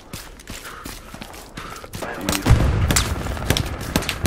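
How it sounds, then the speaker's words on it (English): Gunfire in the WWII shooter Hell Let Loose, scattered shots and distant bursts building into heavier, closer volleys and booms in the second half, with faint voices underneath. "We're getting shot at."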